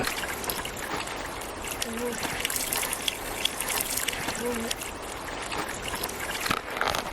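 Mountain spring water trickles and splashes steadily outdoors, a continuous broadband wash with a few brief tonal chirps over it.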